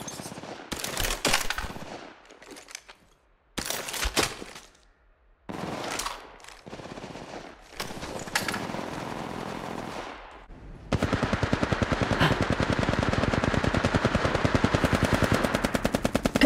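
Gunfire in the mobile game Apex Legends Mobile: several short bursts of rapid automatic shots with brief pauses, then a sustained stream of fast regular firing to the end.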